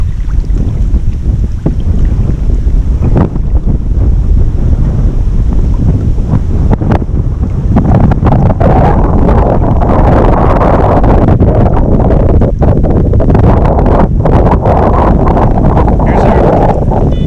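Strong wind buffets the microphone at a carp fishing spot by the water, a loud continuous roar with gusts and rumble throughout, occasional knocks and rattles underneath.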